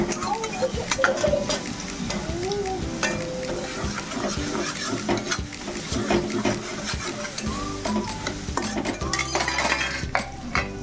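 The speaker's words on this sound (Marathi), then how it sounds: "कांदा जरा लालसर होऊ दे।" Onion frying in a pan for prawn biryani, a soft sizzle under clinks and scrapes of a spoon against the pan, close by, with a person talking over it.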